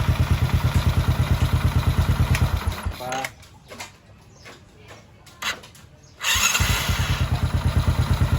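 A Honda XRM 110/125 or Wave 100 motorcycle's electric starter cranks the engine after a starter chain repair, giving loud, rapid rhythmic chugging for about three seconds, then a quieter gap with faint sounds before cranking resumes.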